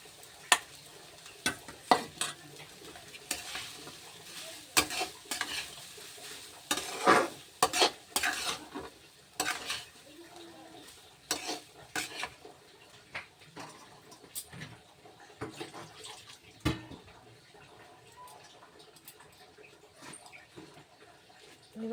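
Fried potatoes and onion stalks get stirred in a sizzling pan with a spatula, irregular scraping strokes and clinks over a soft background sizzle, close and fairly quiet, with quieter gaps between bursts of stirring.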